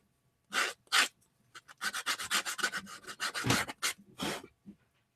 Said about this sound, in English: use my sponge sander, sanding sponge